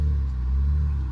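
A Ford Model A engine labors while offroading at walking pace, a steady loud low rumble with shaking vibration, continuous and close, with no talk.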